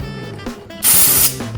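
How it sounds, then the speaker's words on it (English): An aerosol can of SuperClean cleaner-degreaser releases a steady, loud hissing spray for about half a second, close by. Faint knocks and handling noise come before and after it. "Let's check out the aerosol version."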